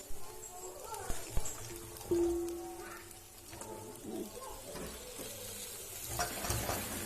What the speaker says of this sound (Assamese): দেখিছেই মই কেনেকৈ ভাজিছোঁ